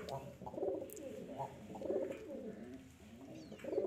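A brown-tailed pigeon in a loft gives soft, repeated low coos in a steady rhythm, close and fairly quiet.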